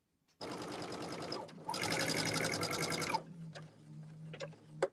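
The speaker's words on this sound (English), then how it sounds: "So I'll go ahead and start sewing that." A sewing machine stitches quilt block pieces in two fast, steady runs separated by a short pause, then stops, leaving a few light clicks and taps nearby.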